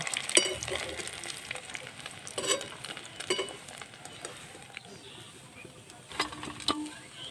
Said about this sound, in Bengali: তো এইভাবে আমি সব পিঠেগুলো ভেজে নেব